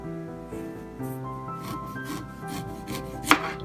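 Knife chopping ginger into thin vertical slices on a board, a steady run of soft repeated cuts with one sharper knock near the end, close and moderately loud with no talking.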